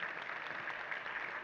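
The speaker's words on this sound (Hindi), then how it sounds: "तालियां बज गई" Applause from an audience at a spiritual discourse: a steady, dense wash of clapping, fairly distant and even throughout, with no voices over it.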